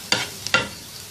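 Finely chopped onion sautéing in a little oil for a tawa fry kaleji, with two short bursts of stirring and sizzling and a brief clink between them, close and moderately loud.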